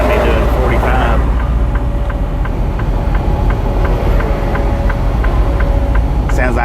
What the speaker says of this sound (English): Sounds like an F-35